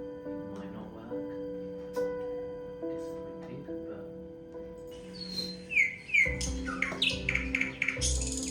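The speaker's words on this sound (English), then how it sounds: "It's a nightingale." A recorded nightingale, played back, sings varied whistled phrases and trills, at first quiet, then louder rapid chirps toward the end, with faint background murmur.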